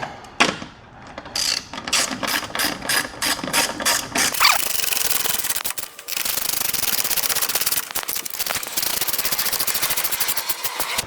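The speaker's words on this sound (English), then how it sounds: "we're gonna start putting all of these screws back into place on the top part of the grill." Ratcheting clicks in rapid bursts as screws are driven back into the top of an American Modified armor grille on a 2024-or-newer Ford F-150, with short pauses between runs of loud, close mechanical chatter.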